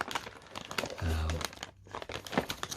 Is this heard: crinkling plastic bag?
yes